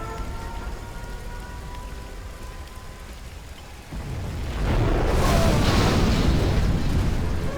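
Nuclear missile launch in C&C Zero Hour: after a quiet stretch of ambient game noise, a deep rumbling roar swells suddenly and holds loud and heavy to the end.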